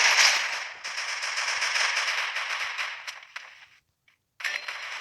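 Rapid bursts of automatic gunfire from the Free Fire video game rattle loudly and continuously, thinning out, dropping to a brief silence, then resuming.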